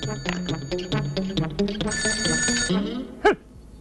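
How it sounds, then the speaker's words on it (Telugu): A telephone rings indoors in a comedy scene, loud, with several bursts of bright trilling bell tones one after another. A brief voice cuts in near the end. "ఇదిగా ఈ ఇల్లు నాది, ఆ ఫోన్ నాది, వచ్చే ఫోన్ నాకు వస్తుంది"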